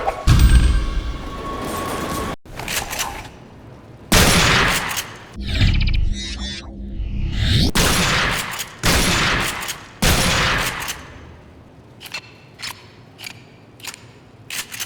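Shotgun blasts fired in a first-person shooter game boom out in loud, closely spaced shots, each followed by mechanical pump and reload clacks, then a string of quieter shell-loading clicks at the end.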